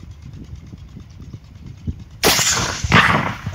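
A Dangar rifle fired during outdoor target shooting: a sudden, loud, sharp report after a quiet lead-in, followed by a lingering echoing tail and a second crack-like burst shortly after.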